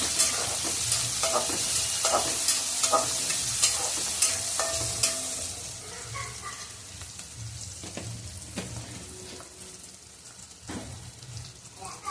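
Onions sautéing in a pan for a Khandeshi-style Marathi dish, a steady close sizzle with scraping stir strokes from a spatula that come thick early, then thin out as the frying settles and quietens.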